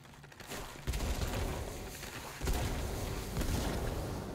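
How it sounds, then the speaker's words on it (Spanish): Toxic geyser eruptions in the game Control, with dense rumbling blasts and crackling bursts swelling twice over a constant loud roar, fairly close and without any talk. "Mucha explosión me parece para poco geyser"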